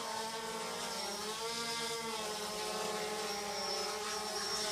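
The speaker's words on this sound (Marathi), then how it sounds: "मेणबत्ती ड्रोन घेऊन येतो आहे." A small drone hums steadily as it flies in carrying a candle for a lamp-lighting at a workshop event, its propeller whine close and continuous with no talk.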